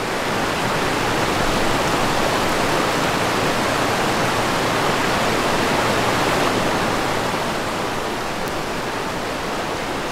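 Floodwater of the Loire river rushes over its banks in a dense, steady roar of broadband water noise, loud and unbroken throughout, with no voices.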